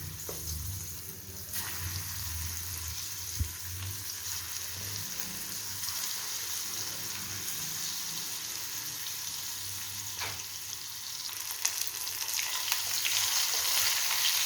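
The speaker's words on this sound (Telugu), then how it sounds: "ఆయిల్ కాగిందండి. ఇప్పుడు ఇవి వేసేద్దాము." Bitter gourd pieces frying in hot oil give a quiet, continuous sizzle that rises slightly near the end, with a few faint clinks and no talking.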